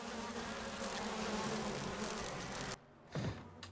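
Wasps buzzing in Resident Evil Remastered, a dense steady drone that fills most of the clip, then cuts off abruptly and returns briefly as a short swell near the end.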